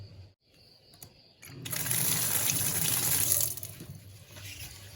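Chilies are rinsed under a running kitchen tap for a Thai chili dip, water gushing close and loud for about two seconds after a few quiet handling clicks, then easing off.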